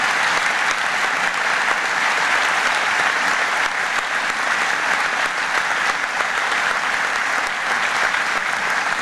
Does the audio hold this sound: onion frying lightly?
no